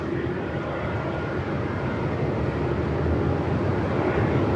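A large airliner takes off from Melbourne Airport in strong 45-knot winds, giving a steady, loud, broadband jet roar that swells slightly toward the end, mixed with wind buffeting on the microphone.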